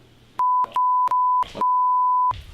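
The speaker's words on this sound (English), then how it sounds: "I'm gonna beep all those out." Four sharp electronic censor beeps at one steady pitch, the last one held longer, each cutting in abruptly over faint background sound.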